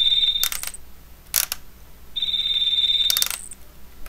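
Electronic beeps and tones from a Lego Galidor Kek Powerizer toy: a steady high-pitched electronic tone twice, with short bursts of clicky noise around them, close and fairly loud with no talking.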